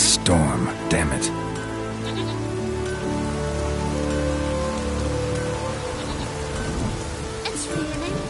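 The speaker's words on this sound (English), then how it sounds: "It's raining. Put on your tunic." Rain during a storm in the video game The Witcher 3 Wild Hunt: a steady wash of falling rain under voices and tonal sounds, with a few sharp clicks near the start.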